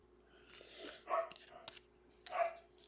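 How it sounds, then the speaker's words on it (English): Small dog barking indoors during a live baseball card break, a few sharp yips at moderate distance over low room noise, with bursts around each bark. "Oh, this dog is driving me crazy."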